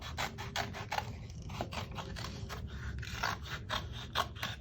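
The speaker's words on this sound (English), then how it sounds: "I'm just going to cut right up around this" Scissors snip patterned paper around a stamped design for a handmade card, a close, quick series of crisp cuts in an uneven rhythm with light rustling of the paper between them.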